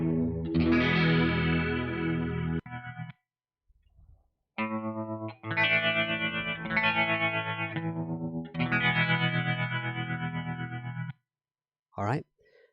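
An electric guitar loop plays through changing Tone Stack Pro amp presets in Cubasis 3, chorus-like and distorted tones in separate phrases, with gaps between them as the sound switches, moderately loud.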